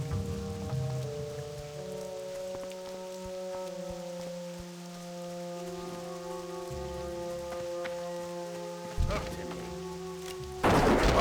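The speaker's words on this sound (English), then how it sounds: "Nice to get out of this rain as well." Steady rain from World of Warcraft patters continuously over sustained game music tones, with a louder burst near the end.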